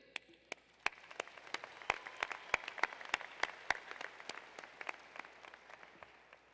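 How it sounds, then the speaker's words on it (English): Graduates at a business school graduation ceremony applaud, with sharp, scattered individual claps spaced out and building to a fuller patter, then thinning again toward the end, moderately faint. "give yourself a round of applause because you are so brilliant"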